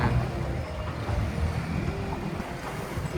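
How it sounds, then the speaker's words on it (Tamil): A long-tail boat travelling along a canal in Thailand, giving a steady, moderate engine drone blended with rushing wind and water noise, with no voices. "இதுக்குள்ளே ஒரு கனல் போகுது போட் திரும்புகிற மாதிரி இருக்கு"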